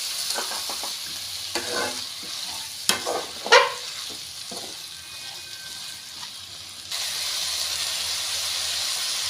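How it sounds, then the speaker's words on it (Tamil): Chicken frying in a pan with chopped tomato, giving a steady soft sizzle and hiss with a few brief stirring scrapes, close and moderately loud, no talking. "இதோட சிக்கனை சேர்த்துடலாம்."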